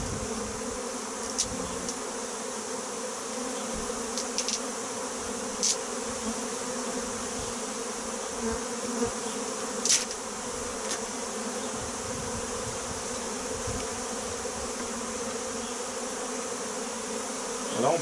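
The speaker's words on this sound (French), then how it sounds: "on voit qu'il y a beaucoup d'abeilles" Dense, steady hum of many honeybees at a well-populated hive opened for its first spring inspection, candy feed finished, with a few sharper close buzzes passing near amid the continuous drone.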